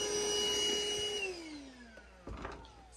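A shop vacuum cleaner drones steadily while clearing debris from a boat deck during a nonskid upgrade, its motor pitch sliding downward as suction strains, then a brief bump near the end, with no talking.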